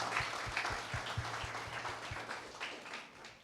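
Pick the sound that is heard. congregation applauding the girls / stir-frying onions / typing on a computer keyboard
congregation applauding the girls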